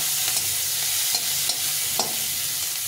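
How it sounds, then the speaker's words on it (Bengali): Finely chopped onion frying in oil, a steady dense sizzle with occasional light taps of a stirring spoon against the pan. "পেঁয়াজটাকে ভালো করে ভেজে নিতে হবে, একটু লাল লাল করে পেঁয়াজটাকে ভেজে নিতে হবে"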